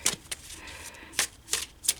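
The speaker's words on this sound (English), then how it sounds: "we're going to start our reading by shuffling up and pulling out 3 different cards for you from the Kalevala deck" Kalevala tarot cards being shuffled by hand in a quiet room, producing a few short crisp riffling bursts spaced irregularly over two seconds, fairly faint and with no voices.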